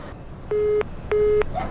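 After a phone call is hung up, the line gives two evenly spaced, clear electronic beeps of equal pitch, each lasting about a third of a second, over faint background hiss.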